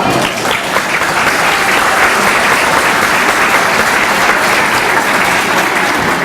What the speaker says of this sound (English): let's give a round of applause to Nihad Awad.